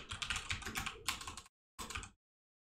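Computer keyboard keys clatter in a quick run of presses for a Photoshop Control T shortcut, close and crisp, then stop briefly before one last short burst of keystrokes.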